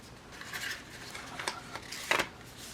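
Paper crinkles and rustles as it is folded by hand to fit into a bag, with soft scraping creases and a sharper crackle near the end, close to the microphone and without speech.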